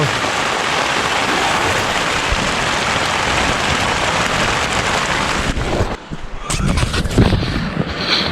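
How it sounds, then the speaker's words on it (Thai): Steady heavy rain hisses on surfaces at a campground in Mae Taeng, Chiang Mai, Thailand, dense and close, with a brief dip and some rustling toward the end. "ตอนนี้ฝนก็เริ่มปล่อย ๆแล้ว"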